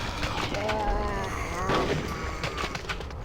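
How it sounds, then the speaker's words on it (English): Shotgun blasts in the video game Conker's Bad Fur Day, with several booming shots spaced through the clip, mixed with in-game effects and a voice talking underneath. "Look at the noise as well. It sounds so good. Shotgun's got good range as well."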